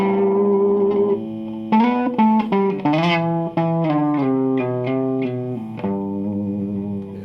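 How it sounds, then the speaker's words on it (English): Overdriven electric guitar strums a run of distorted chords in a rock blues tone, starting on a sustained chord and then moving through quick successive strums before settling on a ringing final chord, close and alone. "you simply turn up the drive a bit more, get more distortion."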